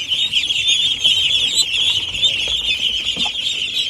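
A flock of young female ducks raised on a farm keeps up a continuous high peeping chorus, close and fairly loud, with faint rustling underneath.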